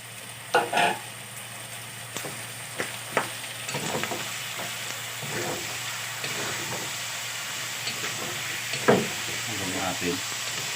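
Pork sizzles steadily with shrimp paste in a hot pan, with soft stirring scrapes and occasional clinks heard close over a constant frying hiss.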